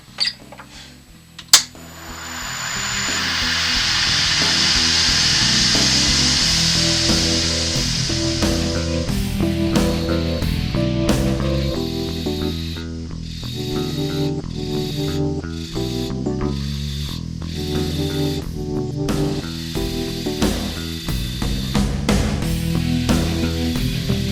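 A wood lathe spins up while a gouge hollows the inside of a laminated sycamore and purpleheart bowl, a continuous whirring hum with changing scraping and cutting tones and occasional knocks, loud and close, with no speech.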